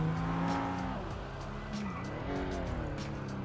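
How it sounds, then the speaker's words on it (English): A car driving in the GTA 5 video game hums at a steady pitch, with brief tire squeal and skidding mixed into the continuous engine sound. "I didn't want a car that's too loud."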